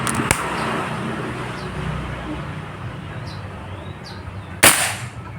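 A Nimbus SW air rifle fires one crisp shot right at the start, then another louder crack a few seconds later, each a short sharp burst over steady outdoor background noise.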